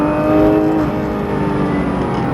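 A loud Porsche 991 GT3 RS engine drones up close on a race circuit, its pitch holding then rising slightly as it accelerates, with a steady rumbling roar.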